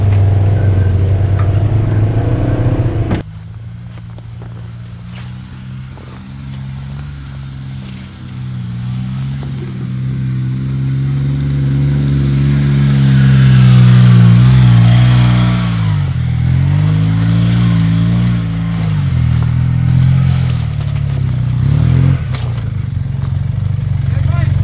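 A Polaris RZR side-by-side engine revs and drones loudly along a mud bog trail, the pitch rising and falling through the ride, with a voice talking over the engine.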